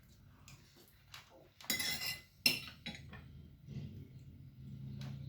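A metal spoon scrapes and clinks against a plate during a meal, a handful of quiet, close strokes with soft gaps between them.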